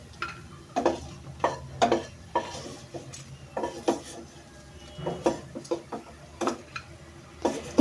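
Dried red chillies stir-fried in oil in a pan, a spoon knocking and scraping against the metal in repeated close, irregular clinks over a low, soft sizzle.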